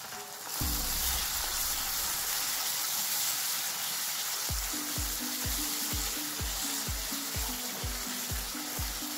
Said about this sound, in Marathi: आपला मसाला चांगला व्यवस्थित परतत आलाय, त्यात आपण कढीपत्त्याचे पानं टाकून घ्यायचे